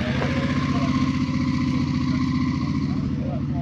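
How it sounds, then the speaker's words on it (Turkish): A Suzuki V-Strom motorcycle with an aftermarket exhaust rumbles nearby with a deep, throaty, pulsing exhaust note, running steadily at idle. "Oradan bir V-Strom sesi geldi. Egzozu takmış. Güzel ses geliyor."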